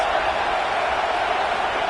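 A football stadium crowd roars steadily at a college game between Alabama's Crimson Tide and Auburn, a dense, loud wash of noise that lasts throughout.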